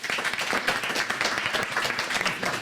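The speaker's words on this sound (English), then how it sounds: "Can we also give Ben a massive round of applause?" A live audience at a science event in a hall gives sustained, dense applause, many hands clapping together at a steady, fairly loud level throughout.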